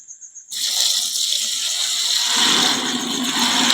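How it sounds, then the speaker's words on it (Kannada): Water pours steadily into a container after a few short taps, a close continuous splashing gush whose tone shifts as it fills. "ಈಗ ಇವನ್ನ ನೀರು ಹಾಕ್ತೇನೆ."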